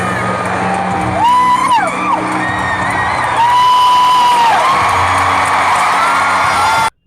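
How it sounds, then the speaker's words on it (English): A concert audience erupts in loud, sustained cheering and shrill, rising and falling whoops that carry on steadily for about seven seconds before cutting off. "The audience went crazy with thunderous applause and cheers."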